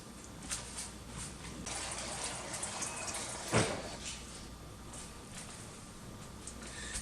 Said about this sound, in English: all we're going to do is cover this with filtered water